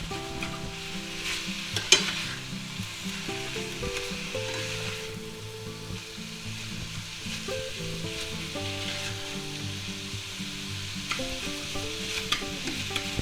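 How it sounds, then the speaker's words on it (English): Sausage frying in a cast iron skillet and being stirred and chopped, heard close as a steady, continuous sizzle with scraping stirs over a faint tonal background. "Okay, our sausage is starting to cook. We'll just go ahead and stir that around a little"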